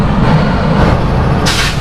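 Train pulling out of Howrah station platform 11, heard from inside as a loud, steady low rumble of the moving coach with a rush of hissing noise near the end.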